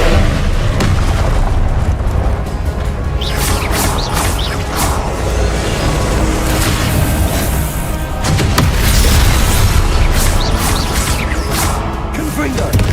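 Repeated Confringo fire-blast spells cast in Hogwarts Legacy, loud booming bursts and whooshes recurring through the stretch, with a voice shouting the spell name over the combat noise.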